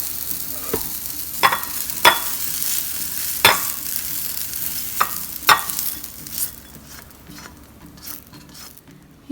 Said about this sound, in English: You will give this a good mix and cook it for 1 more minute